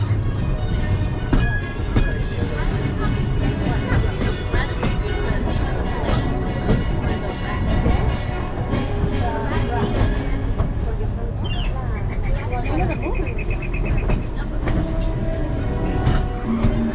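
The Disneyland Paris railroad train rolls along its tracks with a steady rumble and rattling clacks, while a recorded announcement speaks over the running noise.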